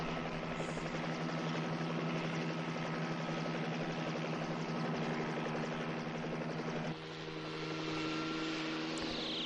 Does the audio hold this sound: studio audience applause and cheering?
no